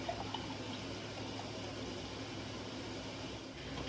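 Liquid for dandelion jelly, three cups measured out, pours and splashes softly and steadily into a measuring container, faint and close with no talk.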